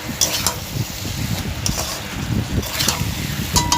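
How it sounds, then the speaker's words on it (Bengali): A pot of pumpkin and vegetable curry with potatoes, Malabar spinach and prawns is stirred with a utensil right after the lid comes off, giving repeated soft scraping and clattering strokes over a faint sizzle, close and steady. "আমি আরেকটু ভালো করে নাড়াচাড়া করে নেব।"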